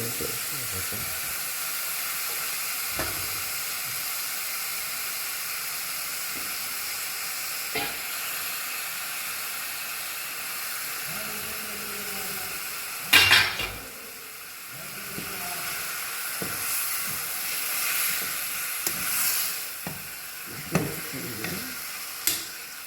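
Mutton kheema fries in a pan with continuous sizzling, punctuated by scraping stirs and a few sharper clinks of the spoon against the pan, close and moderately loud.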